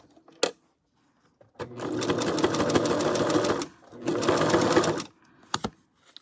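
A sewing machine stitches fabric onto a cardboard flash card in two sustained bursts of rapid whirring, separated by a short pause and bracketed by a few sharp clicks.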